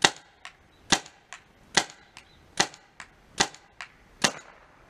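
Tippmann TiPX paintball pistol firing cheap RPS Stinger paint at a tree outdoors: about a dozen sharp, evenly spaced pops in a quick steady rhythm, close and fairly loud, no talking.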